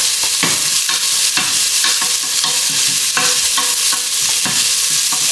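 Ingredients fry in a pan with ginger and curry leaves, a loud, steady sizzle with stirring scrapes running throughout, close and with no voices.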